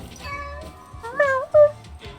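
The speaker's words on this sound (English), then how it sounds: "Another little golden kitty here" A golden kitty in the Hell Pie video game meows in a few short, rising cries, fairly close and clear, over a faint game background with soft talk early on.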